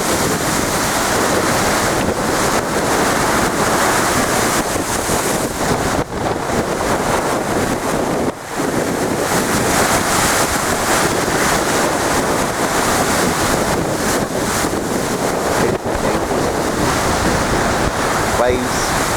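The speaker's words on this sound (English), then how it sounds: "Waves," Stormy ocean surf crashes and roars continuously under strong wind that buffets the microphone, loud and close with no pauses.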